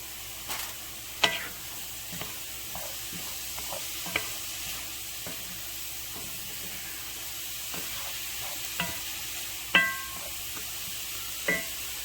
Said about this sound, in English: I'm turning my heat up to high to help them onion go ahead and start get some color.